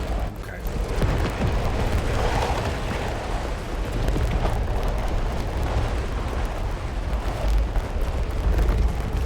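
Explosions rumble continuously in Final Fantasy XVI, a dense, loud wash of booms and bursts with game effects, under occasional speech.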